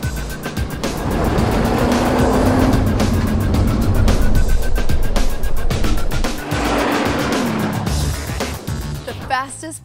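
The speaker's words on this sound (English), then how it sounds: "The fastest production car in the world." The fastest production car in the world drives past at speed, its engine roaring loud and steady for several seconds, dipping briefly and then surging again as a voice talks over it.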